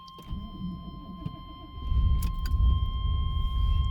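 Faint clicks and a jingle of keys, then an old truck's engine turns over into a rough, low, rumbling idle heard from inside the cab, alongside a steady electronic tone.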